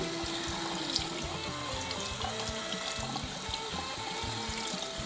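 Running tap water steadily filling a container in a sink for rinsing shaving equipment, a continuous close splashing rush with no talking.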